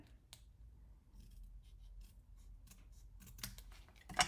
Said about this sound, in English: I'm going to just trim this one just a little bit.